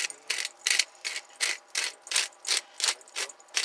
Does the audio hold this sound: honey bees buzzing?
no